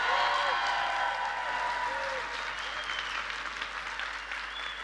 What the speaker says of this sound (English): the loudest round of applause of your entire life. Stamp the table, stamp your feet